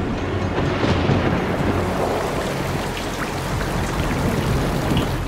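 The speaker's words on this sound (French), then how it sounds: "il pleut du méthane" Liquid methane rain on Titan falls as a dense, steady wash of droplets, a continuous broadband hiss that holds evenly throughout with no voices.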